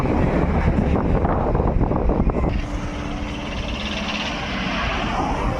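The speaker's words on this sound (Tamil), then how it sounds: "அந்த அளவுக்கு இருக்குது காற்று சம வேகமா இருக்குது காற்று" Strong wind blows across the Pamban bridge and buffets the microphone with a loud, continuous rushing roar that shifts in tone partway through, with no one speaking.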